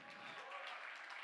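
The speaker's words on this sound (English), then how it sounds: "Round of applause for yourselves" An audience at a conference event claps steadily, a dense, even wash of applause filling the whole moment.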